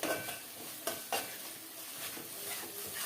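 Raw fish curry masala fries in oil in a pan, a soft steady sizzle broken by a few sharp clinks and scrapes of a stirring utensil against the pan.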